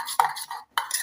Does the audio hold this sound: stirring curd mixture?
yes